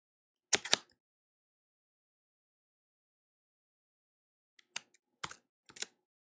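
Quiet computer keyboard typing as a Windows license key is entered. A short burst of keystrokes comes first, then a long silence, then a few more scattered taps. No one speaks.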